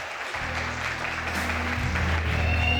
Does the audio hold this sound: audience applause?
yes